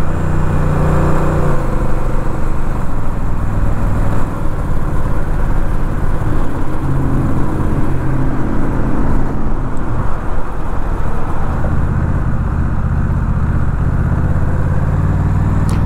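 A small bore motorcycle rides through traffic with a loud, continuous engine drone that shifts pitch as it accelerates, along with heavy wind rumble throughout.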